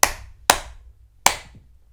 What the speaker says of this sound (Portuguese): Eu estou a bater palmas para sincronizar o áudio